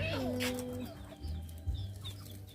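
Farmyard chickens cluck and call close by, a short run of rising squawks and clucks over a low background hum, with faint voices.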